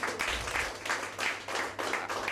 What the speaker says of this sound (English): Let us have a big applause